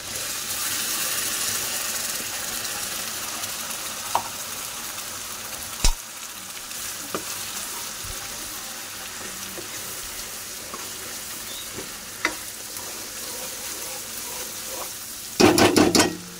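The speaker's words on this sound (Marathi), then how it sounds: "मसाला छान परतून घ्यायचा।" Ground masala for misal sautés in a pan with a continuous low sizzle, broken by a few sparse spoon scrapes and a brief cluster of clatter near the end.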